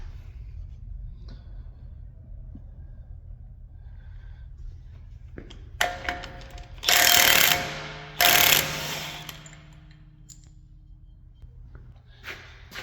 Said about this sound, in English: we're gonna use 36mm hub socket and an impact